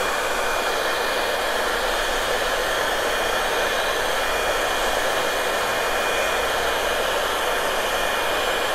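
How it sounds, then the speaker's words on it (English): A hair dryer on its cool setting blows steadily and loudly at close range, a constant airy roar with a faint whine, uninterrupted throughout. "Hair dryer is the way to go."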